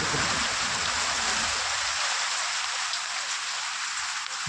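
Steady rain pours down, a dense continuous hiss of drops hitting surfaces, with no voices.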